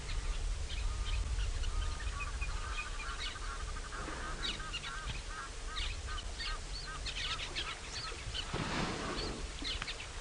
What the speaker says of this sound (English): I can hear an Egyptian goose now.